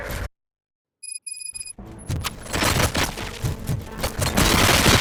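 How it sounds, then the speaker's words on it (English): Gunfire in the Robocop Rogue City video game erupts as dense, loud rattling volleys of shots and booms after a short silence and a few electronic beeps. "Gunshots? What's going on?"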